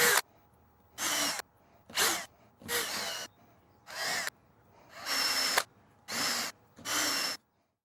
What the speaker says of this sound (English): To cut the holes, I'm using a small Forstner bit, and it seems like this would give me the cleanest edge.